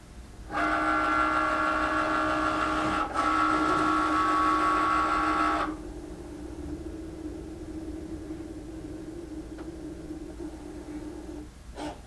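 A Cricut cutting machine calibrating after its mat is loaded, giving a loud steady whirring tone for about five seconds with a brief break partway, then dropping to a quieter mechanical hum that runs on to the end.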